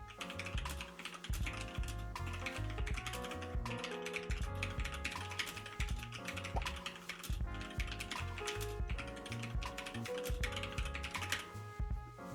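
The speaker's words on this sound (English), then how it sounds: "At least I'm getting better at typing." Quick bursts of typing on a computer keyboard at a desk during a Unity C# coding stream, rapid irregular key clicks that are near and fairly quiet, running steadily over soft background music.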